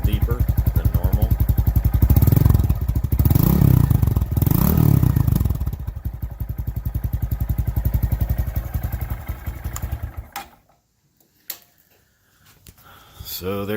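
A 2019 Honda Monkey with a Takegawa exhaust idles after a cold start, its close, loud, rapid putter running for about ten seconds before cutting out, with a voice talking over it.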